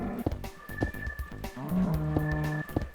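A cartoonish cow moos in a video game, a sustained low lowing call rising over busy game music and effects, loud and close.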